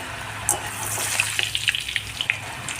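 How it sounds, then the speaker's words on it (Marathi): Grated potato shreds fry in very hot oil for a fasting-day potato chivda, a steady bubbling sizzle with scattered sharp crackles and pops near the pan. "थोडा थोडा करून आपल्याला हा कीज देखील मस्त असा तळून घ्यायचा आहे"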